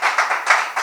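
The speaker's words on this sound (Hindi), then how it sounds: "एक बार जोरदार तालियां इस टीम के लिए।" An audience at an inter-office quiz applauds a team in a short burst of brisk, fairly close clapping, with several hands beating in quick uneven rhythm and no talk.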